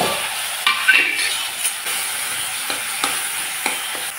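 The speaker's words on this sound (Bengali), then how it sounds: "এখন আমি এগুলোকে একসাথে করে ভেজে নেব।" Potato filling with turmeric, salt, spices, grated ginger and mustard paste in a pan, a steady loud sizzle over the whole stretch with a few soft stirring scrapes.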